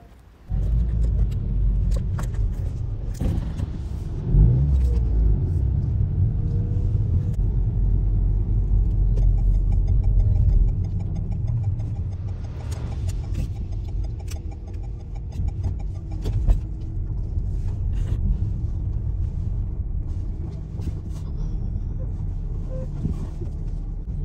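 A car driving along a road, with steady low engine rumble and road noise throughout, slightly louder in the first half, with occasional small knocks and rattles inside the cabin.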